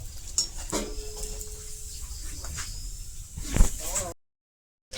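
Fuchka puris frying in hot oil with oil splashed over them, giving a close, continuous bubbling sizzle with occasional clinks and stirring, and a brief dropout to silence near the end.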